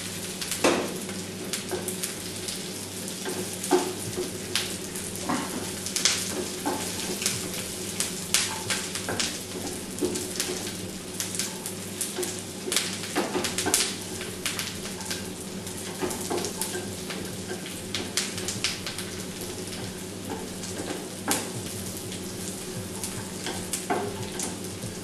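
Cashew nuts fry in a pan for moong dal payasam, a steady dense sizzle and crackle running unbroken and fairly close, with no voices over it.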